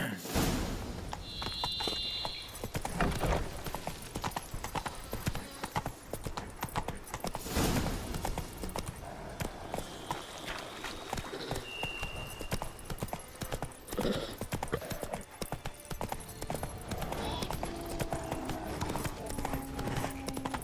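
Roach the horse from The Witcher clip-clops along at a steady walking pace in the video game, hooves knocking repeatedly, with a brief neigh and some swishing game effects mixed in.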